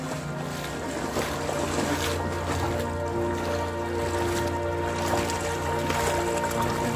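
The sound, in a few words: strong water current flowing through flooded house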